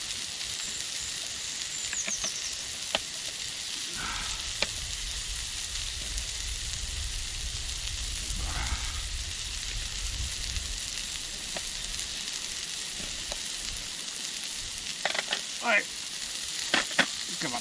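Onions fry in a pan on a Trangia camping stove with a steady hiss, broken by scraping stirs and clinks. A voice speaks briefly over the cooking.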